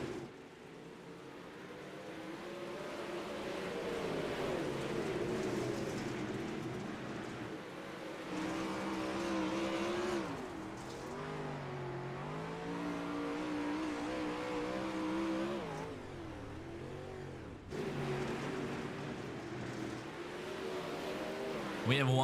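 360 sprint race cars in the iRacing sim game drone and rev continuously as the field charges down the backstretch toward turn 3, engines rising and falling in pitch, with a commentator talking over them.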